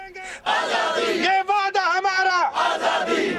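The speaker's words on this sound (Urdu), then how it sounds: "مظاہرین نے بھارتی قونصل خانے کے سامنے جمع ہو کر کشمیریوں کی آزادی کے حق میں اور بھارتی تسلط کے خلاف نعرے لگائے" Kashmiri protesters gathered outside the Indian consulate in Frankfurt chant slogans in unison, a loud, close crowd of voices rising and falling in rhythmic shouted phrases.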